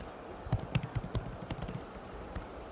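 Python code is typed on a computer keyboard in quick, uneven bursts of close key clicks, then a few slower taps, all quiet and without voices.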